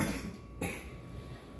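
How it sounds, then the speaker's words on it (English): A child, a young son, coughs once in a kitchen while food fries, a single short burst amid steady background hiss, fairly distant. "that's my son coughing in the background"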